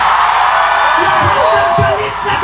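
A protest crowd at an anti-corruption march shouts in anger, loud and dense with whoops and yells rising over a roaring mass of voices.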